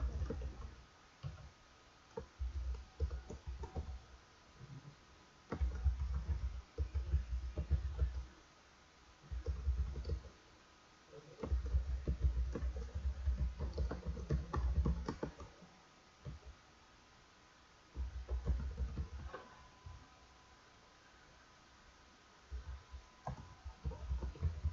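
Typing on a computer keyboard comes in irregular bursts of quiet, close clicking and tapping keystrokes, broken by short pauses, over a faint room hum.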